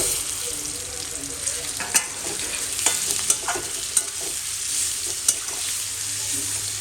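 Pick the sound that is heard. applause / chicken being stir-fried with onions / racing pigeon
chicken being stir-fried with onions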